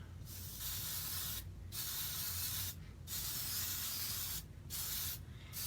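A Krylon Low Odor Clear Finish aerosol can sprays lightly onto a glittered craft piece in four close, hissing bursts, each lasting about a second, separated by short silent pauses.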